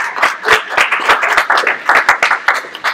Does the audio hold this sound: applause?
yes